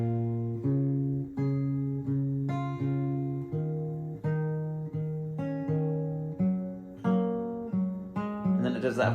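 Electric guitar plays a riff slowly, a steady sequence of sustained single notes and note changes, each plucked and left to ring, clear and close with no voices.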